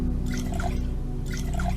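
Water dripping while bottles are refilled in the game NEO Scavenger: two short bursts of bubbly, plinking drips a second apart over a steady low hum.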